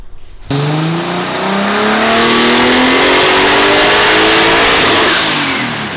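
A Toyota AE86 car engine revs hard on a dyno and climbs steadily in pitch, loud and close, held at high revs with a rising whine.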